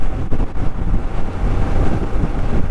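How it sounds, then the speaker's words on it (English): Strong wind buffets a 2023 Honda motorcycle at around 45 mph, producing a loud, continuous low roar and rumble with gusty surges throughout and no speech. "wow, is it windy"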